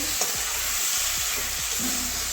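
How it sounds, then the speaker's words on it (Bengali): Potatoes and pointed gourd sautéing in a pan with spices, a loud close sizzle broken by repeated stirring scrapes of a spatula, with no voices. "আলু আর পটলটা কষিয়ে নেব এই যে ভালো করে কষিয়ে নিয়েছি"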